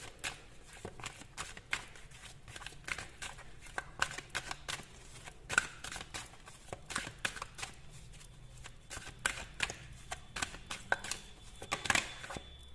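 Tarot cards shuffled and drawn by hand, a steady run of soft papery riffles and flicks with sharper snaps near the end, close and fairly quiet.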